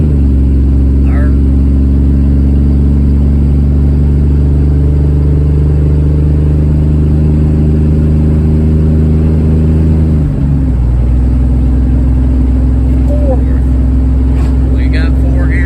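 Car engine on a test drive accelerating through its gears, a steady loud drone with a shift near the end where the pitch drops and settles into the next gear.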